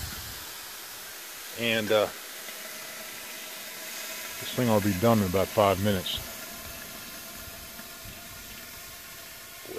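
Steam hisses softly and continuously from a pumpkin pie baking in a covered skillet over a campfire, a steady background hiss beneath two short bursts of someone talking.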